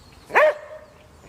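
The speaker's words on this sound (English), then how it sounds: "What's that terrible noise? Oh, well, that's Sebastian, his sister's dog" A single dog bark, short and fairly loud, followed by a fading whine-like tail in an otherwise quiet domestic garden setting.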